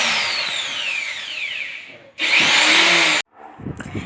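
An electric grinder is tested for cutting steel, giving a loud whining, high-pitched motor spin-up with a harsh grinding burst in the middle, then a short pause and a weaker restart.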